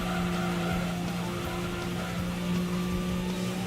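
A car power sliding in the Gran Turismo 2 video game, a sustained engine drone with a continuous tyre squeal layered on top, steady and fairly loud throughout.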